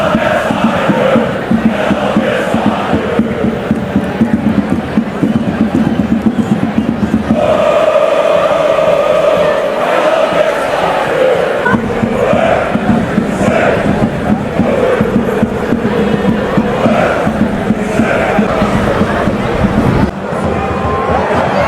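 Home crowd at a Hvidovre IF football match in Copenhagen, a loud, continuous roar of massed voices and clapping that swells and dips throughout, with shouting and chatter mixed in close to the stands.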